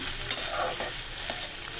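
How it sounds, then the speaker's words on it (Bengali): Beetroot and potato fry in a pan with a loud, dense, continuous sizzle, broken by a couple of brief stirring scrapes, heard up close with no voices. "বিট আর আলু সুন্দর করে দেখো ভাজা করে নিচ্ছি"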